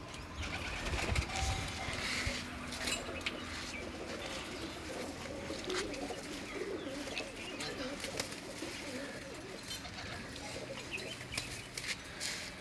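Pet pigeons at a home loft coo softly and continuously amid a steady, noisy outdoor background with occasional wing flutters and chirps.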